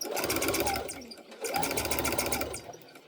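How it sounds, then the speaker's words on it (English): A sewing machine stitches steadily through a Minky blanket, its close, continuous motor whir running in two bursts with a brief pause between them and no talking. "a couple locking stitches, and then we'll go ahead and start stitching."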